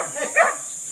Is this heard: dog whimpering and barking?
yes